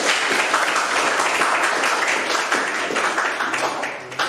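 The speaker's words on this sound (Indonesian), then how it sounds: "tepuk tangan dulu" Students applaud in a mechanical engineering drawing classroom, giving dense, steady clapping for about four seconds with a slight dip partway through.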